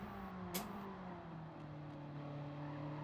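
A car engine in Gran Turismo 7 fitted with a changed exhaust, holding a steady, fairly quiet drone with a short rise in revs early on, then settling back to an even hum.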